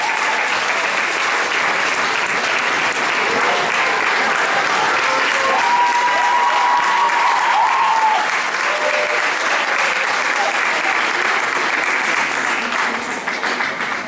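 Sustained applause from an audience at an award ceremony for a pop-rock contest, dense and steady clapping filling the room for several seconds without a break.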